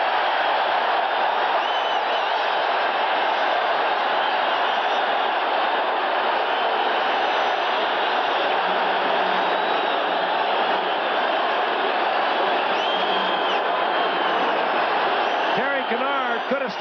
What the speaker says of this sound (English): and now listen to this crowd